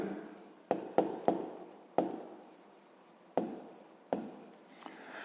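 Chalk or marker scratches across a board in a fifth-grade math lesson, coming as a string of sharp taps and short strokes with quiet gaps between them and no talking.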